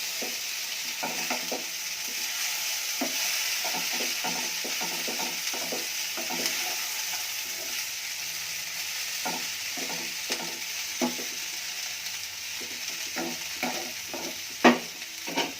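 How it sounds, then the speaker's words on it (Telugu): Tomato masala for vangi bath cooks over a medium flame, with a constant soft sizzle and repeated spoon scrapes and taps against the pan, close up and without speech. "టమాటా మసాలా అంతా మీడియం ఫ్లేమ్లో మగ్గించాలి"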